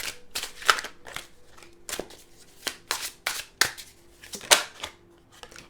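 Tarot cards shuffled by hand in a quiet room, a run of crisp riffling bursts and soft slaps in an uneven rhythm, close and clear with no talk.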